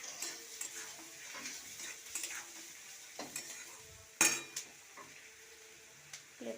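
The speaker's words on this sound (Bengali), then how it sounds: "সর্ষে বাটাটা দিয়ে ভালো করে নাড়িয়ে দেবো" Mustard paste being stirred into Malabar spinach cooking with shrimp: quiet sizzling under repeated scraping and clinking of a spoon against the pan, with one sharper metallic knock partway through.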